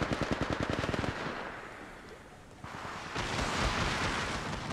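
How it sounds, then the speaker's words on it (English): Automatic weapon fire in the Apex Legends Mobile game: a rapid close burst of evenly spaced shots, then a rumbling lull and a second louder wash of gunfire and blasts. "Getting shot at."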